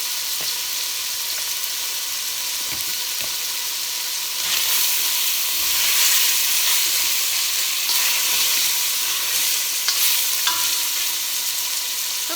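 Italian sausage sizzling and browning in a pot with a pinch of red pepper flakes, a steady close frying hiss that swells for a few seconds midway, with faint scattered clicks of stirring and no talking.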